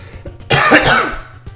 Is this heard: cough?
yes